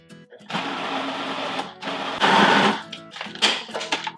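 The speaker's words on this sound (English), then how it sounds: "this is going to get pureed in the processor" A food processor purees tomato sauce with garlic, whirring in several loud bursts with brief pauses between pulses.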